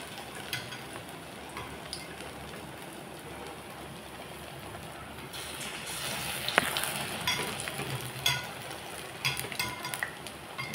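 Eggplant slices frying in refined oil in a hot wok, giving a steady, soft crackling sizzle throughout with a few sharper pops and clatters near the end.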